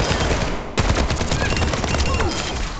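Rapid gunfire from shooting practice against training bots in Overwatch 2, a dense burst of repeated shots running continuously after a sharp start, loud and close with faint game sounds underneath.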